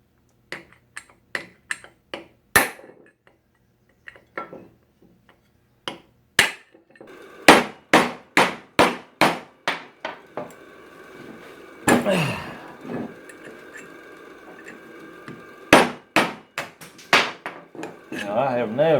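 Hammer strikes on metal while cutting a stubborn bushing apart on a 1975 Chevrolet C20 truck, a series of sharp, close, ringing blows in irregular bursts with quiet gaps between them.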